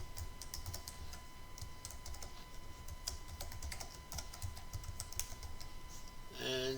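Quiet, rapid keystrokes on a computer keyboard while entering text into a spreadsheet, a steady patter of light clicks with a brief louder flurry at the very end.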